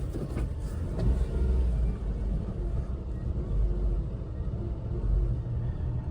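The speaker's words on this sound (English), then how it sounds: "Here's a quick cold start." A small kei van camper with 4-wheel drive cold-starts and settles into a steady idle, giving a low rumbling engine drone that stays even and fairly loud throughout, with no talking.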